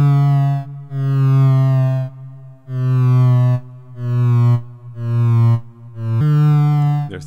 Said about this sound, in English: so just you can hear the effect of the LFO on the pitch